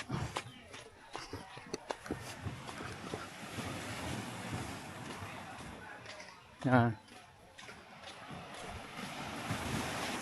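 Sea waves wash in at a beach at dusk, a soft continuous surf mixed with wind buffeting the microphone, while people talk nearby and a voice briefly rises louder.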